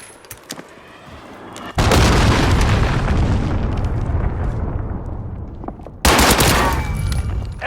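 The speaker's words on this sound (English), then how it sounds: "Enemy cruise missile incoming!" In a video game, a cruise missile strike lands as a huge booming blast that roars and rumbles for several seconds, followed by a second heavy explosion, loud and close with no voices.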